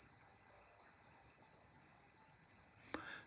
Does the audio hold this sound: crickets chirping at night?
yes